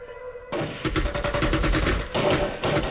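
Heavy gunfire during the Waco siege breaks out after a brief quiet moment and becomes a dense, rapid barrage of overlapping shots that continues with a short lull near the end.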